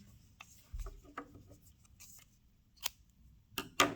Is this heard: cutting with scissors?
yes